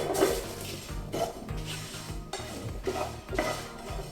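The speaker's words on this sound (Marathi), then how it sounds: "अगदी हलकेसे आपल्याला मसाले भाजून घ्यायचे।" Five whole chillies and spices, including kasuri methi, dry roast in a pan without oil. A spoon stirs and scrapes against the metal in repeated close, clattering strokes with a faint sizzle underneath.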